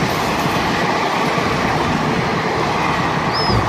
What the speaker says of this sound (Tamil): ரயில்வே ஸ்டேஷன் கிளம்பியாச்சு